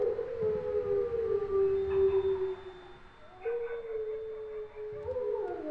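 Dogs howl in the Oculus Rift horror game Home Sweet Home, long wavering siren-like wails that rise and fall and overlap across the stretch, fairly loud and steady with no talking.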